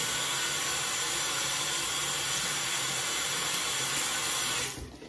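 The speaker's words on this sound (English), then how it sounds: "And let me wash my hands real quick." Tap water running steadily into a sink while hands are washed, a constant close rushing hiss that cuts off abruptly just before the end.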